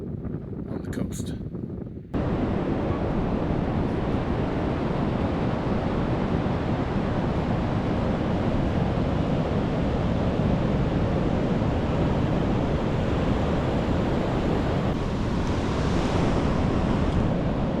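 Pacific surf breaking at Ocean Beach on the San Francisco coast near Golden Gate Park, a loud continuous wash of waves and wind buffeting the microphone after a brief quieter opening, with a voice speaking over it.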